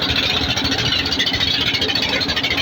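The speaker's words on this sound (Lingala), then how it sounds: "Omoni esika kombo ya dakadaka euta son ya moteur nango" A motorized boat engine runs steadily nearby, a dense, even mechanical drone with a fast rhythmic chug throughout and no talking.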